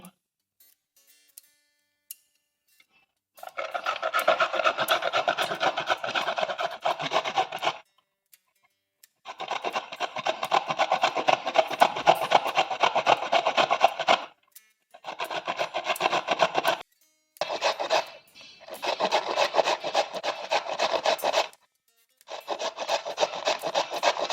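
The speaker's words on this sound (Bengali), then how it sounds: "বিট আর গাজরটাকে আমি ভালো করে গ্রেট করে নেব।" Beetroot and carrot are rubbed against a kitchen grater in several long bursts of rhythmic rasping strokes, close and fairly loud, separated by short pauses.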